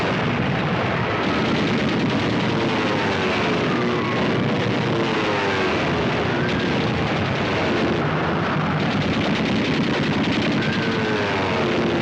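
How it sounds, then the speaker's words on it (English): Heavy gunfire aimed at people: loud, continuous machine-gun bursts and overlapping shots with explosive booms, filling the whole stretch without pause. "They were shooting at us."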